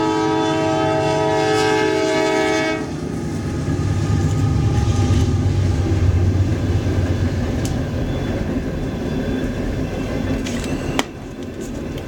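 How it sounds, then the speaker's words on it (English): A passing train sounds its horn in sustained, harmonic blasts for about three seconds. Loud wheel and car rumble follows, with a sharp clank near the end. No one speaks. "Here comes our friendly neighborhood train."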